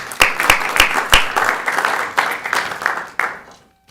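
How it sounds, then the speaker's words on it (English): A round of applause from attendees at a city council meeting in North Augusta, opening with a few sharp separate claps before a steady crowd clapping that fades out near the end. "Let's give him a round of applause"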